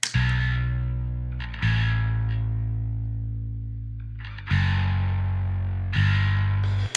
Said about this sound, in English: I have Guitar Rig on the bass also doing a saw wave distortion